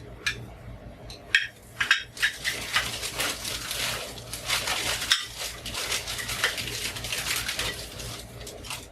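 Small ceramic soap dishes used as trinket trays clink and clatter as they are handled, with a cluster of sharp knocks early on and then a steady rustle of contact.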